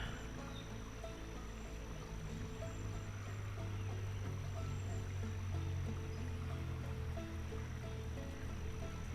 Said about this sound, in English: the sound of that water is so beautiful